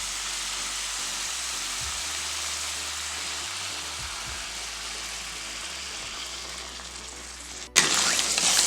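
Water poured onto frying chicken for Arabic chicken sizzles and hisses steadily in a pan, close and fairly loud, with a sudden louder burst of sizzle near the end.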